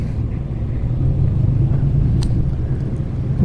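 An off-road car engine with a fault, running in a steady low rumble that stays loud and close without letup, with no voices heard.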